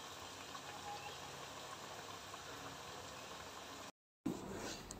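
Raw banana pieces sizzle steadily in hot oil, a dense continuous frying hiss with a brief silent gap before it resumes slightly louder.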